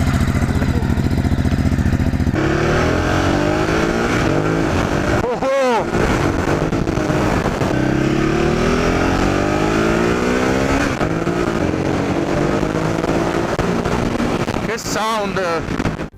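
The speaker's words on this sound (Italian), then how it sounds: "un motore grintoso e devo dire a mia grande sorpresa anche un sound fantastico con lo scarico di serie" Ducati Hypermotard 939 from 2018, stock exhaust, engine running loud and close with steady revving that rises and falls, a brief gap near the middle, and wind buffeting throughout.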